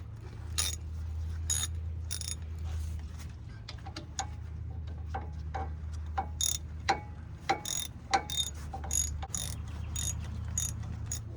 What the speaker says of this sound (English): I can just put it on a regular ratchet head and get them out of there